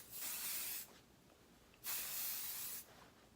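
Kerastase K Lacquer Noir hairspray sprayed from an aerosol can in two separate bursts of close, steady hissing, each lasting about a second, with quiet pauses between.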